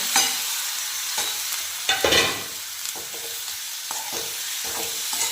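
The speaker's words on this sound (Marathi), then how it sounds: "आता यामध्ये आपण बारीक चिरलेली पालक टाकून घेऊया." Finely chopped spinach sautéed in a pan with tomatoes for dal palak: steady close sizzling with repeated scraping stirs and soft clatters of a spoon against the pan, no voices.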